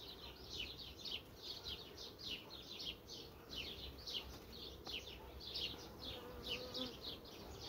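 Honey bees buzz steadily around an open hive during summer colony care, a soft continuous hum with no talking.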